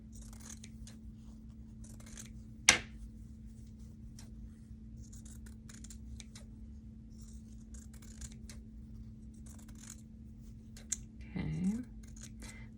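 A single crisp snip of scissors trimming embroidery fabric around a hoop guide, then a short cluster of faint cutting and rustling near the end, close and quiet against a low steady hum.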